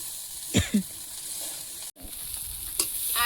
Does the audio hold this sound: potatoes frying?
yes